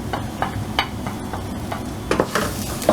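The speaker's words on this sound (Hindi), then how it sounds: "इसमें हल्का सा ऑयल डालेंगे और ये छोटा जो ऑनियन चॉप किया था उसके साथ ग्रीन चिल्ली को उसके साथ" Chopped onion and green chilli fry in a little oil with a light, steady sizzle, while a spoon scrapes and taps against the pan in quick, uneven strokes.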